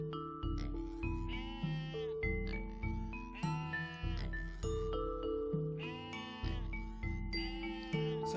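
Sheep on a sheep farm in the management game Master Plan Tycoon bleat again and again over steady tinkling chimes and game music.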